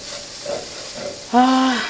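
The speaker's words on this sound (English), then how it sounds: "as my garlic starts cooking" Garlic cooking in a hot pan for a plant-based green bean casserole, a soft steady sizzle and hiss close by, with a brief brighter clink or scrape near the end.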